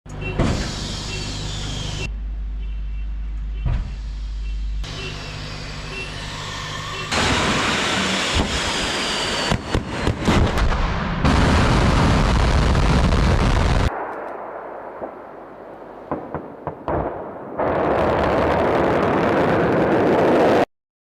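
Ballistic and cruise missiles launch in a military nuclear-forces exercise: a series of loud, sustained roaring blasts cut one after another, some with sharp bangs and a long rushing roar.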